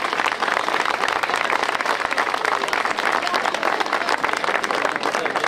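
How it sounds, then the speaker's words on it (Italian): An audience claps loudly and without a break at an outdoor victory celebration in San Mauro la Bruca, a dense wash of many hands heard close by. "E vi chiedo un applauso per la mia squadra."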